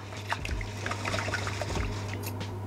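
Urad dal being rubbed and washed by hand in water, a continuous soft trickling and sloshing with a few louder splashes, close and steady throughout.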